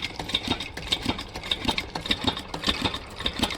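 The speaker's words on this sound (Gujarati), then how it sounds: "અને આમાં છે ડીઝલ હા એકદમ શાંત મશીન હાલે ત્યારે જો" A diesel engine driving a compost machine runs at a steady idle, chugging in quick, even pulses from close by.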